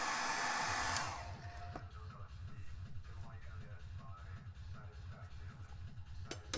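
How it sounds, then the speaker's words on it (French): A hair dryer blows in a steady loud rush for about a second, used to soften adhesive, then drops to a lower, uneven hum with faint rustling underneath. "le sèche-cheveux, voilà, tu souffles ici, histoire que la colle se ramollisse"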